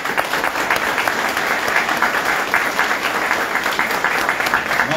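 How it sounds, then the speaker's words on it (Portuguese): An audience applauds steadily for tourism staff at a Christmas launch ceremony in São Leopoldo, a dense, even wash of clapping from a gathered crowd held at constant loudness throughout. "Queria uma salva de palmas para elas."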